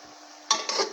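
Vegetables stir-fry in a kadhai for restaurant-style chicken fried rice, with quiet clinking and scraping of a spatula against the pan rising into louder, brief bursts of sizzle and stirring.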